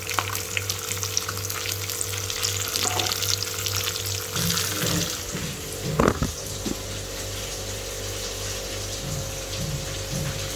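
Finely chopped chilies fry with sautéed onions and capsicum for beef chilli gravy, making a constant loud sizzle with a low steady hum and a few stirring scrapes in the middle.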